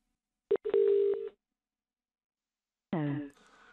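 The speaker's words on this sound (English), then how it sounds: "simply press the speed dial button for the person you wish to transfer the call through to" A SwyxIT desk phone gives a pair of short, clean electronic beep tones as its speed dial button is pressed, then a brief quiet before a different ringing or chirping tone sounds.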